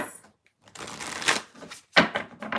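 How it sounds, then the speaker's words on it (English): A deck of tarot cards is shuffled by hand in a few quick riffling bursts with short pauses between, close and fairly soft. "Just going to do a quick shuffle."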